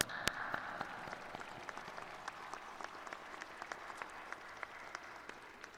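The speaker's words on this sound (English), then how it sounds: "Let's give that a round of applause." A community college graduation audience claps for new graduates, with sustained crowd applause and a few sharp, distinct claps standing out near the microphone, gradually thinning toward the end.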